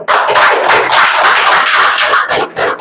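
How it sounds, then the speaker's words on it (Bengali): An audience at a wellness and weight-loss seminar claps for a guest speaker, making dense, loud applause that carries on steadily and thins briefly near the end. "আমাদের গেস্ট স্পিকারের জন্য একবার হাততালি"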